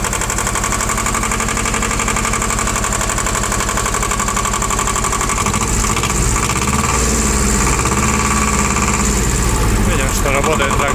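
A small Shibaura SD1840 tractor engine idles close by, a steady mid-pitched diesel chug with a continuous even drone that shifts to a rougher, lower throb about halfway through.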